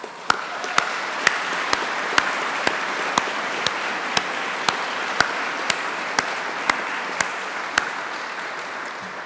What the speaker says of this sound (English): congratulate each and every one that's graduating today with a round of applause